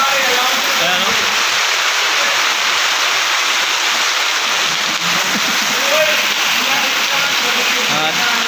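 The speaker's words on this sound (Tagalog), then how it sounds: "Umuulan na." Steady, dense hiss of heavy rain pouring down, constant and close, with faint voices murmuring beneath the downpour.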